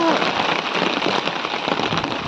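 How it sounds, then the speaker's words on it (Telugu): Dense, hissing downpour of heavy monsoon rain pattering on surfaces in a village, continuous and close, with no speech. "చాలా పెద్ద వర్షం పడుతుంది"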